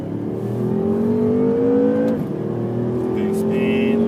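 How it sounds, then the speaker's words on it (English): A BMW M5 accelerates on a track during a performance driving school, its engine droning loud and steady with rising pitch, a brief dip at a gear change, while an instructor talks over it. "Start squeezing back on power there, Jeff."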